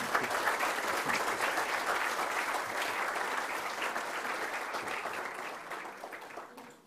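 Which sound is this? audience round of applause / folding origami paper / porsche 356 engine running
audience round of applause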